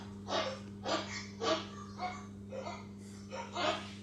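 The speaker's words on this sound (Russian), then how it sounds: "Откуда столько собак?" Several dogs bark in repeated bursts, about six barks spaced roughly half a second apart, over a constant low hum, moderately close and with no speech.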